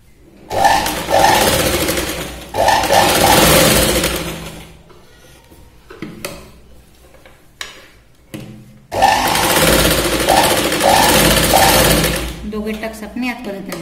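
A sewing machine stitches tucks into the back of a blouse in loud, close bursts of fast rhythmic whirring, separated by pauses with handling clicks; a voice speaks during the gaps.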